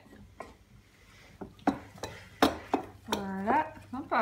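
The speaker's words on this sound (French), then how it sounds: "On continue encore de mélanger" A spoon stirs banana pancake batter in a bowl, giving sharp scraping clinks and knocks in an uneven rhythm, with a brief voiced sound near the end.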